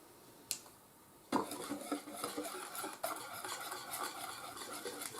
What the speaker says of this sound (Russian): Все тоже размешиваю.